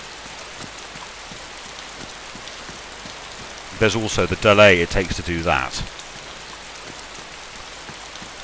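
Steady rain pattering in the DayZ video game world, a constant soft hiss throughout, with someone speaking briefly over it midway.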